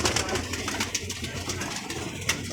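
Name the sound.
pigeons cooing in a loft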